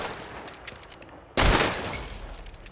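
A single sharp gunshot cracks out loudly in the Hunt: Showdown video game, its booming tail lingering over a quiet background.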